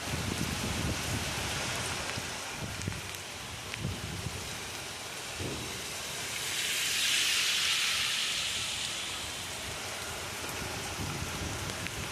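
Steady hiss of heavy rain falling in a storm with strong winds and lightning in Akkalkot taluka, with a surge of louder, brighter rushing around the middle and faint low rumbles underneath.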